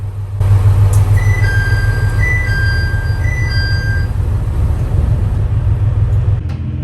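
A coupled train pulls away from Aki station on a Shikoku line, with a loud, steady low rumble and a rising electric whine in stepped tones, with no voices.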